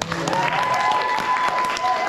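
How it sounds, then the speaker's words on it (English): At a graduation ceremony, a crowd gives a big round of applause for Easter Seals CEO Tom Waters, a continuous, even roar of many hands clapping with a faint steady tone and voices underneath. "let's give a big round of applause to Easter Seals CEO Tom Waters."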